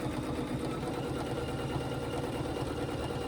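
A sewing machine stitches steadily while quilting with a ruler, giving a continuous close mechanical hum and a rapid, even needle rhythm, with no talking.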